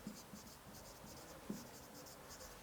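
Teacher writing on a board in a classroom, faint quick scratchy strokes in short bursts with a light tap midway, quiet and alone.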